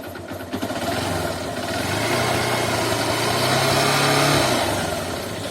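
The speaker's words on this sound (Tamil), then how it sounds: "ஸோ இப்போ அப்படியே வந்து லைட்டாக ரேஸ் பண்ணோம் வண்டியை." Honda petrol motorbike engine running on a DIY 12V lithium iron phosphate battery, idling and then lightly revved, a close steady mechanical rumble that swells gently and holds before easing slightly.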